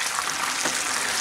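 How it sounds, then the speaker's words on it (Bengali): Fried paneer pieces drop into a pan of sizzling chilli sauce thinned with a little water, giving a steady close frying hiss with a soft splash of stirring partway through. "এখন এর মধ্যে আমি ভেজে রাখা পনিরগুলোকে দিয়ে দিচ্ছি।"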